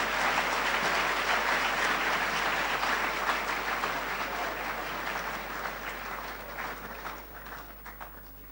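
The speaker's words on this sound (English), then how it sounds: "Shall we give His Excellency El-Haji Dr. Mahamudu Bawumia another round of applause?" Audience applause following a lecture, dense sustained clapping from a large crowd that stays loud and slowly tapers off toward the end, with no talking over it.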